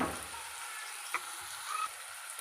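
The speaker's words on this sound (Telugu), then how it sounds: "అల్లం వేసుకుంటున్నామండి కొంచెం ఫ్రై అయితే" Crushed ginger fries quietly in a pan, giving a soft, steady sizzle with a couple of faint clinks, no talking.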